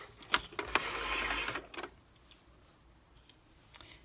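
Sewing machine stitching pieces of an upcycled sock monkey, a dense mechanical whir lasting about a second and a half amid clicks, then quiet with a few faint taps.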